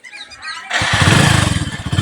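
A motorcycle engine catches and revs up close, then settles into a loud, throbbing run as the bike sets off through a village, with a voice speaking just before it starts.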